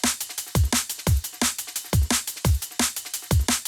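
Layered snare drums in a liquid drum and bass track, crisp and punchy, hitting in a fast, tight rhythmic loop with deep kick thumps between them.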